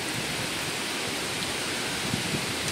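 Heavy rain and gusting wind from a typhoon roar in a dense, constant wash of noise over a banana plantation, with no voices.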